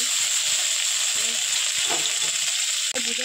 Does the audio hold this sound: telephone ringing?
no